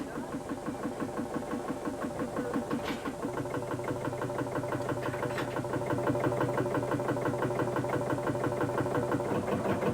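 A Field Marshal tractor engine runs steadily at a vintage steam fair, its loud single-cylinder thump pulsing in a fast, even rhythm with a rattling, shaking character, holding constant for the whole stretch.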